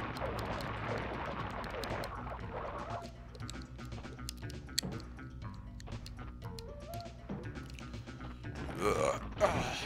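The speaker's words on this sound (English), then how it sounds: "Ugh, that was a good burp, Crash." Crash Bandicoot lets out a burp in the video game Crash Bandicoot 2, a short guttural belch set among game music and effects in a fairly quiet mix.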